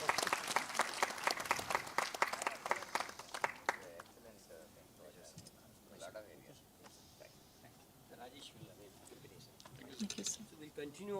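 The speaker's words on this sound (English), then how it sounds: "Can we have a big round of applause," A large audience in a conference hall bursts into dense, loud applause at an inaugural session, and after a few seconds it thins into scattered clapping and background murmur.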